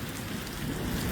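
Steady rain falls during a severe thunderstorm in dense fog, a brief continuous hiss of drops on surfaces, moderately loud and close, swelling slightly toward the end.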